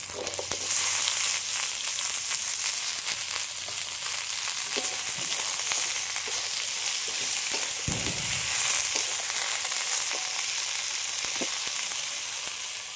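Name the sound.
spinach and potato added to frying onions, sizzling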